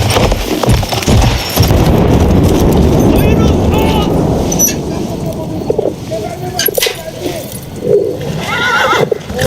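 A horse in the Battlefield 1 video game neighs loudly and whinnies over clip-clopping hooves, set in a busy desert scene with a Bedouin rider and a dense mix of background game noise.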